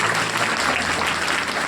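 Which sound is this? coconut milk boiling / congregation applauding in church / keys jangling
congregation applauding in church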